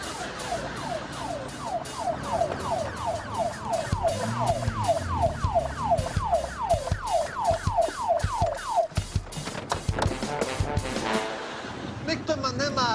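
Emergency vehicle sirens from fire brigade, police and ambulance units wail in a repeating rising-falling cycle at a rescue scene, loud over rumbling traffic and crowd noise, then break off into other siren tones near the end.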